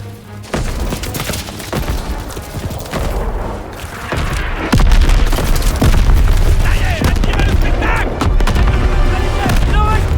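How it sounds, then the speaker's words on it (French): An artillery barrage in the World War II shooter Call of Duty WWII, with heavy booms and rattling gunfire piling into a loud, dense, continuous roar and occasional sharp cracks, while a voice shouts briefly. "Signale l'assaut de l'artillerie!"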